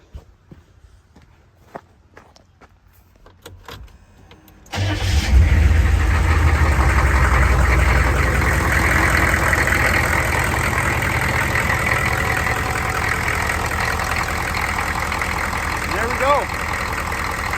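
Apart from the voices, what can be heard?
GM 6.5L diesel engine idling after injection pump replacement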